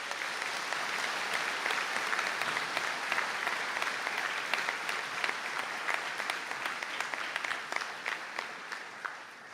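Sustained applause from an audience at a conferring ceremony in Donegal, honouring graduates; steady, dense clapping that holds throughout, fairly distant in a large hall.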